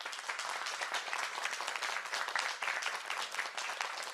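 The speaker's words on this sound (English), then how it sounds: "So round of applause for Raj" Crowd at a political event on public health care applauds a union president, dense continuous clapping, fairly close, with no talk over it.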